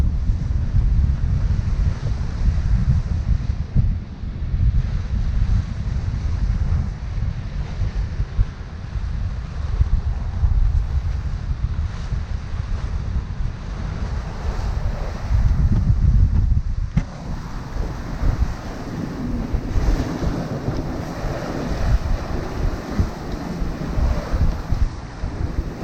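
Strong wind buffets the microphone aboard a Bavaria 41 sailboat while waves wash and slap against the hull, a loud, constant roar that shifts in texture partway through, with no voices.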